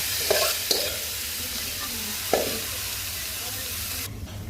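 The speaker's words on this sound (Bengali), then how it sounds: "এটাকে এখন ভালো করে ভাজা ভাজা করে তারপর নামিয়ে নিব" Loud, continuous sizzling from a pan of frying cabbage, punctuated by a few clanks of a spatula stirring, before the sound abruptly drops away.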